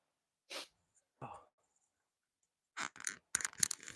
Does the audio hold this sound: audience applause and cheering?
no